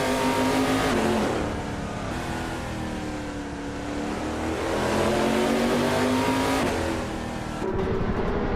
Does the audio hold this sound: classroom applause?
no